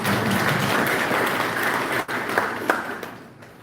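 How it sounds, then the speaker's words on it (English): Audience applause at a strategic workshop, a dense steady clapping from a crowd that holds for a few seconds and then begins to thin out into scattered claps. "I request that we give them a clap."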